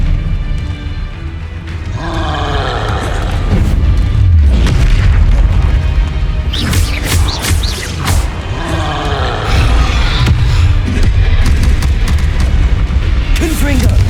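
Fiery Confringo spell blasts in the Hogwarts Legacy video game land as repeated deep booms over a constant loud low rumble, with sharp crackling bursts and what sound like shouted character voices mixed in.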